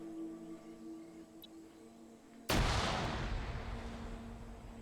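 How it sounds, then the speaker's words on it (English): A single sharp gunshot blast suddenly breaks a quiet stretch of a competitive video game match, then trails off in a long rumbling decay. "hearing those gunshots on the bottom"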